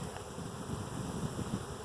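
A freshly caught honeybee swarm fans at the entrance of its new hive, giving a close, steady low buzzing hum with light wind noise across the microphone.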